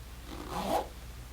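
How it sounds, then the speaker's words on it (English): A water-resistant zipper on an Alpinestars New Land Gore-Tex motorcycle jacket is pulled in one quick, close rasping stroke, swelling briefly and fading within about a second. "Water resistant zipper."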